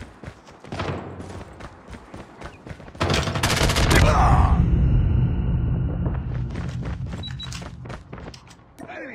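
Rapid bursts of gunfire and a loud grenade blast with a long rumbling tail in a search-and-destroy match of a first-person shooter video game, close and dense, with a voice briefly calling out amid the shots.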